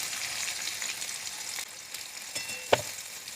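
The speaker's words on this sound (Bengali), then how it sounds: "ভালো করে লাল লাল করে ভেজে দেবো।" Onions frying in hot oil for chicken biryani make a close, continuous sizzling hiss, with a few stirring scrapes and one sharp clack near the end. No voices.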